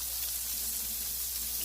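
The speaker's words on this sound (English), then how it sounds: "Anyway, I'm frying this fish skin side down." Fish fries skin side down in hot butter with a dense, even sizzle and crackle that stays steady and close throughout the short stretch.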